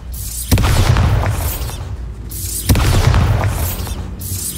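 Two deep booming blasts from the Bombarda explosion spell in the video game Hogwarts Legacy, each a sudden loud burst followed by a rumbling, crackling decay, with no talk over them.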